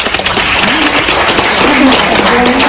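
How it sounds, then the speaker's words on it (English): A crowd at a school board meeting claps steadily and loudly throughout, with a few voices and cheers mixed into the applause. "I would ask that you please refrain from applause out of respect for people's time"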